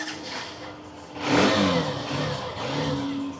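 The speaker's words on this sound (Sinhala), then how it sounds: "ඉතින් මේ බයික් එක අපි ස්ටාර්ට් කරලා බලමු." A motorcycle engine fires up and revs, the idle rising into a louder surge, then settling into a steady mid-pitched running note with a second rev, heard close and without talk.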